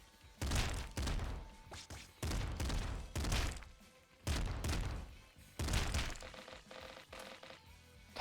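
Heavy gunfire from a triple machine gun in a video game, sounding as a series of loud, booming bursts, each a cluster of rapid shots, repeating roughly every second with short gaps between.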